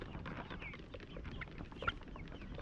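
Jobo chickens, a cock and a hen, cluck softly and steadily close by, their small calls blending with rustling farmyard noise and one brief sharper note near the end.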